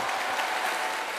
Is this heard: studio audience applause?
yes